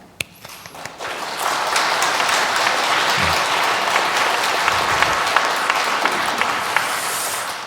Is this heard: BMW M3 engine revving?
no